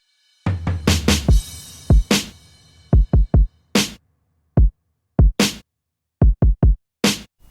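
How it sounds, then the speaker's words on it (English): Drum pattern from a remixed podcast theme song, sharp kicks and snare hits in a steady rhythm, first dense then sparse isolated hits with gaps, loud and alone without voices. "Now next I'll show you the drums in this section."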